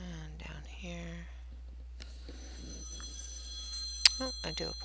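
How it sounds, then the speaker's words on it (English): A mobile phone rings in a quiet room with steady tonal chimes and a sharp peak near the end; someone speaks softly just before the ringing starts. "Husband's phone is going off."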